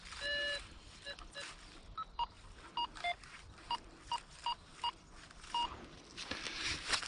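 Metal detector pinpointer beeping over a nail in a forest, a run of short tonal beeps at varying pitches in an irregular pattern, close and clear over faint background noise.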